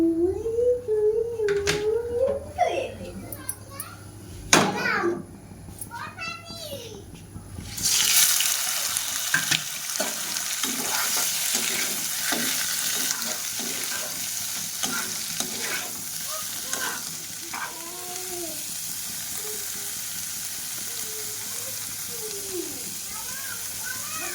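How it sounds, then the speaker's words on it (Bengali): Prawns fry in a hot wok on a gas stove, giving a loud, continuous sizzle with occasional stirring scrapes, while an adult and someone talk over it. "চিংড়িটা ভেজে নিচ্ছি প্রথমে।"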